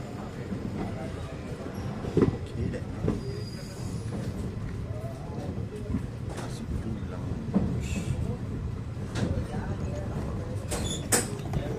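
Steady rumble and clatter of a moving, nearly empty passenger train carriage on the CSMT–Madgaon Holi special, with occasional knocks and squeaks over the continuous rolling noise; no one speaks clearly.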